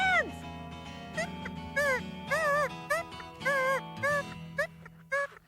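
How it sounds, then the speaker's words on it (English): A toy whistle gives a string of short, bright, wavering squeaks in an uneven rhythm, fairly close and clear above a soft, steady musical background, with no speech over them. "That little squeak is your sound."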